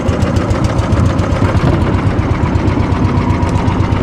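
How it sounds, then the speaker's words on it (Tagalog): A boat engine chugs with a steady, rapid low throb, idling evenly and fairly close. "magpapandar muna tayo ng makina"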